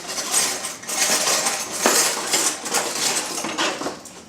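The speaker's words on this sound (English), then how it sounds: "And a bunch of kid-sized silverware" Kid-sized metal silverware, tiny spoons and utensils, clinking and rattling together while being unpacked from a bin, a dense, continuous jangle of bright metallic clatter up close with no talking.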